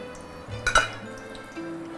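A breaded pork schnitzel drops into hot oil in a pan with a brief clatter, then a soft, steady sizzle carries on quietly at close range, with no talk.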